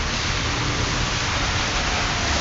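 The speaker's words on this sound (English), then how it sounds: "So it's still raining." Steady, dense rain falls continuously at close range, a uniform hissing wash with no voices over it.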